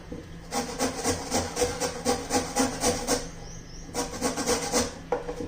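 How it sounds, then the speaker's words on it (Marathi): A peeled potato scraped against a grater gives close, rhythmic rasping strokes in a steady back-and-forth pattern, with a short pause before the strokes resume. "बटाटा आपण किसून घेणार आहोत."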